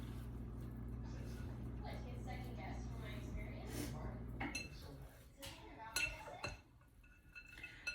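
Carne guisada meat being mixed in a bowl with a utensil outdoors: a low rumbling drone, then scattered clinks and scrapes of metal against the bowl, close and moderately loud, with a voice talking in the background.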